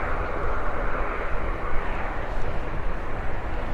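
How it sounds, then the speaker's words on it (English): A fixed-wing airplane comes in to land at the RIAT Fairford airshow, its engine a steady, loud broadband roar that fills the whole moment without pause. "There is a plane coming into land as we speak."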